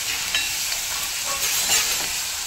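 Onion frying in a pan with a spoonful of cumin-ginger paste for a bottle gourd sabji, a steady close sizzle with faint stirring scrapes and no talking.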